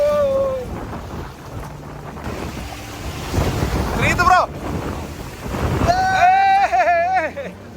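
Ocean waves rolling onto a beach in Goa, a continuous surf roar mixed with wind buffeting the microphone, while people talk loudly over it in bursts.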